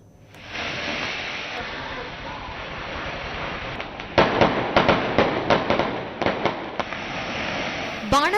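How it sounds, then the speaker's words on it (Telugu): Firecrackers burst in a quick irregular cluster of sharp cracks over a steady hiss of background noise, with a last loud pop at the end; no voices are heard. "పటాలు పేలిస్తే ఏం జరుగుతుంది?"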